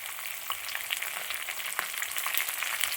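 Fresh curry leaves crackle and sizzle in hot oil while a Kottayam-style Kuttanadan duck curry is being cooked, a steady close frying hiss with dense little pops throughout.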